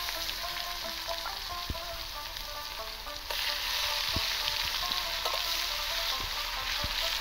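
Whole spices and onion sizzling in hot oil for a Bengali fish curry, a continuous bright hiss with occasional sharp pops and clicks that grows slightly louder partway through, no talking.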